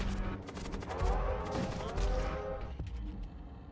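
Rapid gunfire in the strategy game Void War, fought as Raiders against imperial lines: quick repeated shots layered over busy battle noise, fading toward the end, with faint talk.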